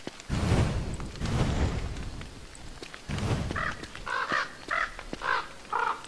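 Crows caw in the video game Don't Starve, a series of short, evenly spaced calls over a steady background of rain-like noise, with a few heavier rumbling bursts earlier.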